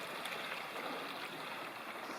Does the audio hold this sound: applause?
no